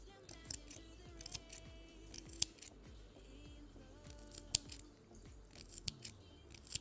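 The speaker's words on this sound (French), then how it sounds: "vous prenez votre paire de ciseaux et vous égalisez" Scissors snip repeatedly at a knitted wool pompom to even it into a round shape, giving close, crisp cuts in an irregular rhythm with brief pauses between clusters of snips.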